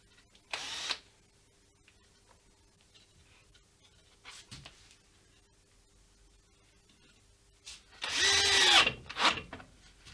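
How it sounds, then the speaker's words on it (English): A power drill drives screws into a guitar neck jig in two short whirring bursts: a brief one near the start and a longer, louder run later, with near-silence in between. "I'll just screw these in."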